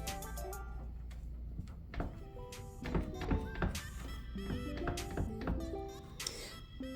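An old Dodge car door fitted with Fox Body weather stripping gives repeated solid thunks and rattling knocks, loud and close, in an irregular series across several seconds.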